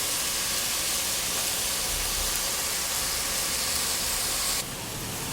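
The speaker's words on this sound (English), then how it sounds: "So put this on high heat, and this is going to cook for about 2 minutes. I'm going to evaporate all the liquid out of this steak." Steak sizzles over high heat as its liquid boils off, a constant bright hiss filling the pan without pause and easing slightly near the end.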